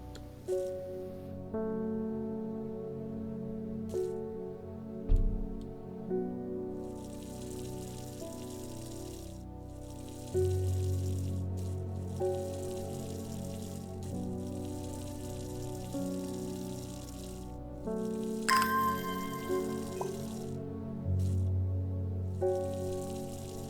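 Water pours and splashes onto plants in the Strange Horticulture game, a soft gushing flow that keeps running under gentle layered music.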